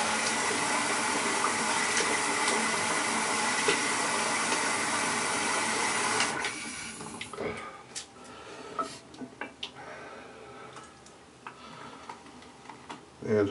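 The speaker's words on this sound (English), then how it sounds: "wash your face just a little bit" Running tap water splashes steadily for several seconds while a face is rinsed during a wet shave, then stops, leaving scattered small drips and light handling noises.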